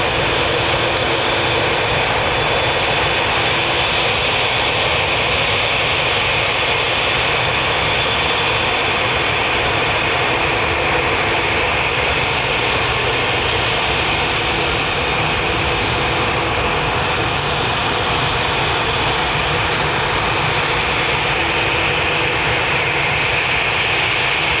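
A four-year-old Boeing Dreamliner jet airliner climbs steeply out of Manchester Airport, its engines producing a loud, broad, unbroken roar that holds steady for the whole span.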